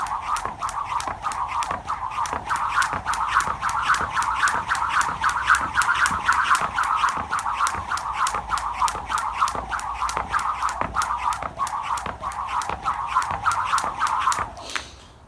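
Jump rope spins and slaps the ground in a fast, even rhythm of sharp ticks roughly four times a second, close and steady for about fifteen seconds with no talking, then stops.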